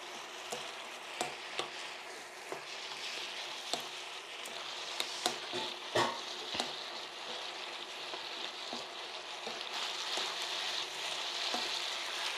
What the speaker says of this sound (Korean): 이거 양파하고 가지 볶아 놓은 거를 같이 섞어 놓은 거를 자, 이렇게 해서 볶아줍니다.